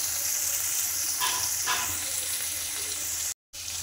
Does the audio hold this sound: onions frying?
yes